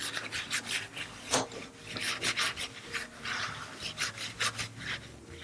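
Isopropyl alcohol is wiped across the lower platform of a RACECAR/J to clear residue, giving a quick series of close, dry rubbing strokes with no talk.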